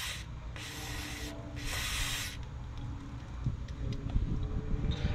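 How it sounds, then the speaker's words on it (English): Two short hissing bursts of WD-40 aerosol spray onto the axle nut of a 2015 Nissan Versa, about a second each, followed by faint tool handling and light rustling; no talking. "I'll spray a little WD-40 on it"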